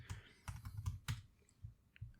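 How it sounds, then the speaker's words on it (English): A computer keyboard is typed on in short bursts of close, crisp key clicks, irregular and quiet, with no speech. "I just typed Stanley Kubrick into my summaries."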